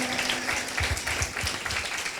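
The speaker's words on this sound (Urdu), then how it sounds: "زوردار تالیاں سے خداوند کے لیے بجا دیجئے گا۔" Church congregation claps loudly for the Lord during a sermon, a busy burst of many hands with a few heavier rhythmic claps standing out, close and lively.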